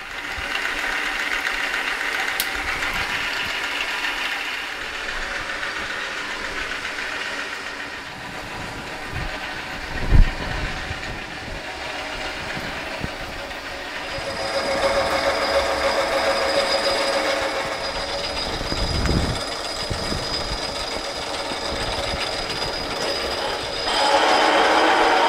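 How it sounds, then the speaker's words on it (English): A lathe boring a hole in a chuck spindle adapter, a steady mechanical drone with a thin whining cut that grows brighter and louder midway, plus a couple of sharp clunks. "I got that bored to 1 inch and just over 1 inch deep"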